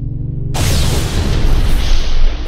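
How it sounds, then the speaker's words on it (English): A sudden loud Minecraft explosion erupts after a quiet, low musical opening, then rolls into a sustained roaring, crackling rumble that fills the rest of the moment. "Was that an explosion?"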